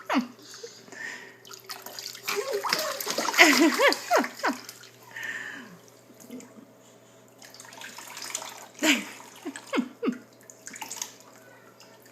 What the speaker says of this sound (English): You like the water running on your face?